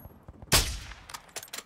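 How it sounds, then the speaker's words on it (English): A single loud sniper shot cracks in Call of Duty DMZ and rings off, followed by fainter scattered gunfire pops. "Getting sniped at."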